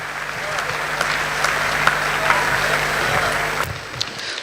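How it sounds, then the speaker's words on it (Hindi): Sustained audience applause at a mushaira poetry gathering in Dubai, dense clapping from a large crowd that fades near the end. "अब इतनी तालियां बजाइए कि कम पड़ जाएं"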